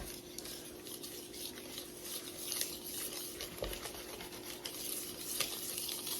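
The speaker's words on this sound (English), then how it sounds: "Let's mix her up." Egg-white-and-oil muffin batter is stirred in a bowl with a utensil, giving soft, continuous wet scraping and sloshing at close range, quiet and unbroken by speech.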